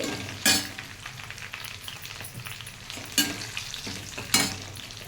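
Water with curry leaves bubbling and sizzling in a pan, a steady frothy hiss with a few sharper bursts, close by and without voices.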